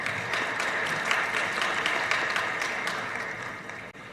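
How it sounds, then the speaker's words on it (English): Sustained applause from the audience at a live book launch event, a thick continuous patter of many hands that holds level before easing slightly and dipping at the very end. "Ladies and gentlemen, a big round of applause."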